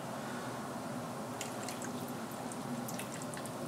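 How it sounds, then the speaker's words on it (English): Liquid marinade for ajitsuke tamago pours and trickles steadily with faint splashes and drips, quiet and close, continuing throughout. "I'm going to pour this in."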